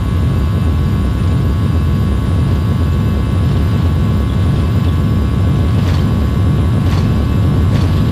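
An Airbus A320neo's jet engines roar at takeoff thrust during the takeoff roll in the X-Plane flight simulator, a loud, constant, dense rumble that holds level throughout, with faint higher whines and no voices.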